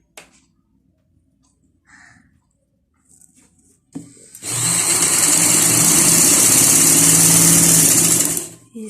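A sewing machine stitching elastic onto trousers, starting after about four seconds of near quiet with faint handling sounds, then running as a loud, steady close whir with a rapid needle buzz until just before the end.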